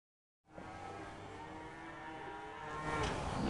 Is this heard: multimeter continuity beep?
no